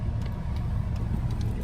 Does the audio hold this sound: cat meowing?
no